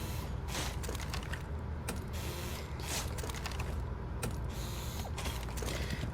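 Mechanical creaking and ratcheting clicks come from placing Kapkan traps in the Rainbow Six Siege video game, a repeated rhythmic gear-like grinding heard at moderate level with no speech.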